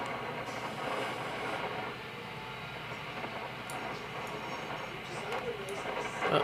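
A train rolls along rails in the BeamNG video game train mod, a steady rumbling run with faint wheel clatter, moderately quiet, while someone talks over it.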